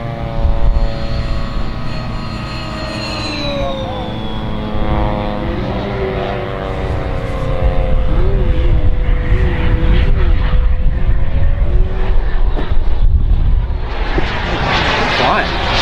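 A Ritewing Drak RC plane flies past at the Joe Nall event, its engine whine rising and sweeping in pitch as it passes. Sustained loud motor noise runs beneath people chatting nearby.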